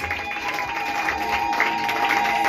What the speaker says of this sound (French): acclamez pour le Seigneur Jésus-Christ